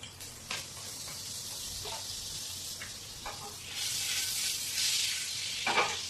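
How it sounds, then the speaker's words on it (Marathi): Marinated paneer frying in oil and a little butter in a pan gives a steady, moderate sizzle with soft crackles and a few brief clinks. The sizzle swells louder over the last couple of seconds, with no voices. "पनीर टाकूया। असं फ्राय करूया तेलावरती।"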